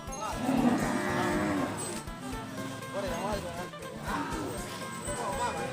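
Cattle mooing at the Nong Phok cattle market, several long low moos rising and falling over about six seconds, nearby, mixed with people talking in the background.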